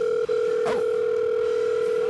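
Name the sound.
telephone dial tone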